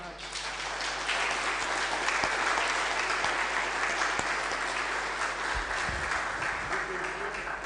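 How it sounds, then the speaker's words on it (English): Sustained audience applause fills a conference hall after a talk on video game studies, steady dense clapping holding for several seconds with a low hum beneath and faint voices near the end. "You can hear an applause"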